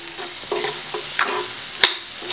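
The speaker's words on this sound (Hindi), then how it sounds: "मावे के साथ मिक्स करते हैं और साथ साथ थोड़ा भूनेंगे।" Khoa and sugar being stirred and roasted in a pan for chickpea laddu, with a soft sizzle under scattered scraping strokes of a spoon, a few sharper clinks standing out, no talking.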